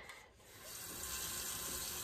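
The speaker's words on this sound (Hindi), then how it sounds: "इसमें पानी ले लिया मैंने अभी" Tap water runs steadily into a flower vase at home, a close, continuous gushing stream that grows slightly fuller as the vessel fills.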